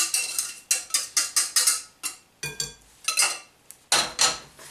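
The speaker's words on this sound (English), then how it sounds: "we're just going to mix this all together, okay? To make a chocolate cake batter." Chocolate cake batter mixed by hand in a bowl, a run of close, rhythmic scraping and clinking strokes in uneven bursts with short pauses.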